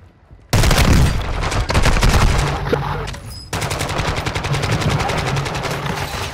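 Sustained loud automatic gunfire in a shooter game, rapid even bursts of close machine-gun shots filling the whole stretch, with a brief drop in the middle before the firing resumes.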